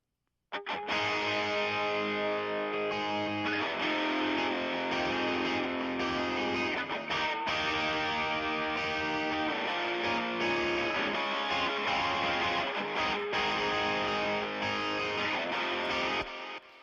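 Distorted electric guitars play a continuous chord-driven passage without reverb, then with reverb, fairly loud and unbroken, with no talking.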